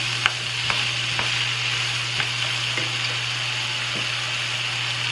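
Butter sizzles steadily in a hot pan, a constant loud frying hiss with a few faint clicks and taps of a utensil scattered through, with no talking.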